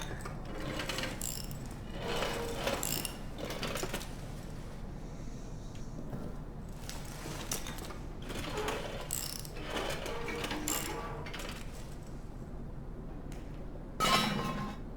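A wrench turns a mechanism in the video game Amnesia: The Bunker, producing repeated ratcheting clicks and metallic clunks in bursts, with a sharper clank near the end.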